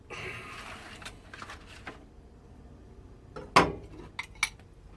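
A spoon clinks and scrapes against a pan while basting smoked sea bass, at first a soft sizzle, then one sharp metallic clatter and a couple of lighter taps close by.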